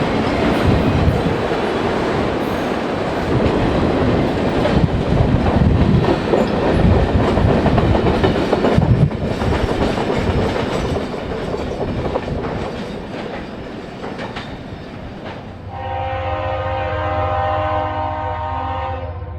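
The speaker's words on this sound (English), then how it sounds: "Two YN3 Dash 8s are in charge of a late running westbound as they roll over Deep River in Hobart." Two GE Dash 8 locomotives haul a late-running westbound freight over the Deep River bridge in Hobart, a loud close rumble and clatter of cars, ending in a long blast of the horn.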